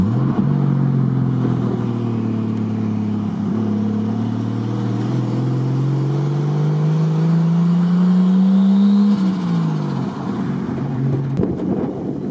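A Nissan Skyline R34 engine runs loud and close, its tone climbing steadily through a long rising rev before dropping back toward idle near the end.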